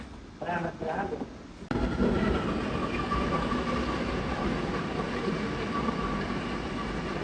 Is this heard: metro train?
yes